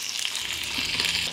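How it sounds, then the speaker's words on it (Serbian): Chicken pieces sizzle steadily in hot oil in a pan, a dense bright crackle close by and continuous, with no talking. "Na zagrejano ulje spuštam piletinu i pržit ću je po 3 minuta sa obe strane."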